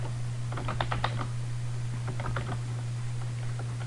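Close computer keyboard typing as an HTML anchor tag is entered, two quick clusters of light key clicks over a steady background hum.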